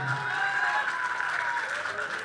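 An audience applauding a poet at a Punjabi poetry gathering, with dense, sustained clapping throughout and a crowd murmur underneath.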